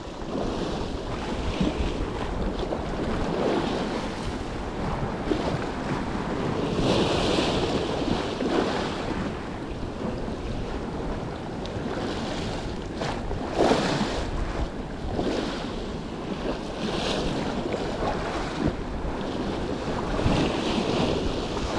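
Sea waves wash and splash around a small boat while fishing for garfish with a pilker lure, a steady surf roar mixed with wind buffeting the microphone, continuous and fairly loud with no talking.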